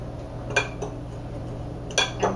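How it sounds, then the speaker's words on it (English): A fork cuts butter into dry cookie ingredients in a bowl, making a few sharp metallic clinks and scrapes against the bowl over a quiet steady background hum. "I'm just going to use a fork just to cut it in till it becomes crumbly"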